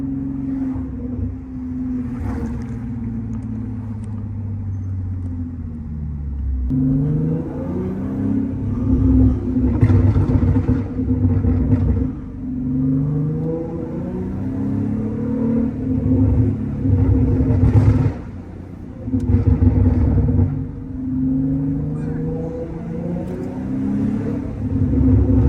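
A supercharged 600 hp Audi S5 with a loud exhaust drives at night, its engine droning and rising and falling through gear changes and throttle blips, continuous and close from inside the car.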